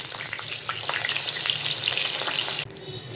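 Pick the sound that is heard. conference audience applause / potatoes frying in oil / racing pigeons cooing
potatoes frying in oil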